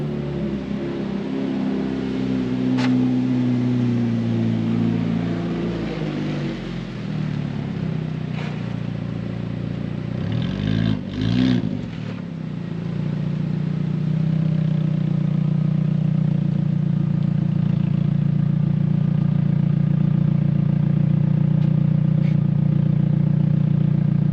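A Hyundai Genesis Coupe with its engine running, a steady mid-pitched drone with a brief clattering burst midway, then the engine note rises and holds, loud and continuous with no talking.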